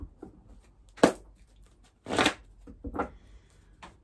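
A deck of twin flame tarot cards is shuffled nearby in three short, crisp riffling bursts separated by quiet pauses.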